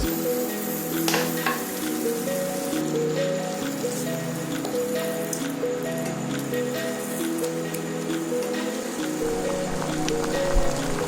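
Ridged gourd posto with a little added oil sizzles steadily in a pan, a continuous close crackling hiss under faint background tones, with no talking.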